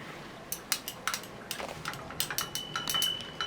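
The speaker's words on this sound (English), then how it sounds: "So we can stir this around." A utensil stirring and clinking against a container of iodine powder mixture in a chemistry demonstration, giving a series of sharp, close metallic taps and scrapes.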